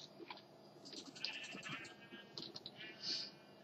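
Faint sheep bleats from Minecraft, a few short wavering calls scattered across a quiet background.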